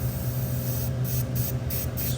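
Continuous close spray from a mid-grade aerosol can while customizing a barber trimmer, a steady broadband hiss lasting the whole stretch with slight flutter in the upper range and no talking.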